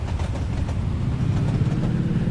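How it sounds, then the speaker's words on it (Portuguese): A passing train in the Nibble: Pizza Delivery video game gives a constant low rumble with faint wheel clatter on the rails, steady and near throughout, with no one talking. "O trem ali não para de passar, não."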